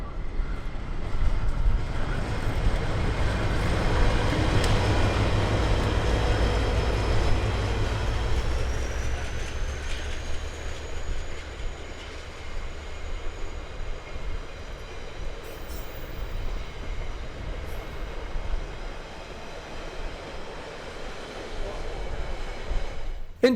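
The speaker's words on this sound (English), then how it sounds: "The Transalpine passing the small country station at Cass" The Transalpine passenger train rolls past the small country station at Cass in New Zealand, a loud rumble up close that slowly fades as it moves away, with a faint high whistle or squeal partway through.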